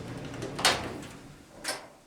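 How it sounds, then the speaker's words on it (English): A Whirlpool, Maytag or Kenmore clothes dryer with a newly replaced door switch gives two faint, brief clicks about a second apart as the door is opened, over a low, quiet background. "when we open the door, the dryer should turn off"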